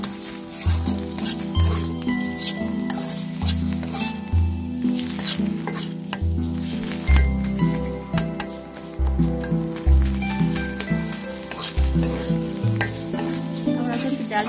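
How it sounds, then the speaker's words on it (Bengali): Dal being fried in a pan over medium heat, with loud rhythmic scraping strokes of a spatula through a continuous sizzle, repeating every second or so and close up. "আমরা কিন্তু ডালটা একটু মিডিয়াম আঁচে করে দিয়েছি, তা না হলে পড়ে যেতে পারে। একদম ভাজা ভাজা করতে হবে।"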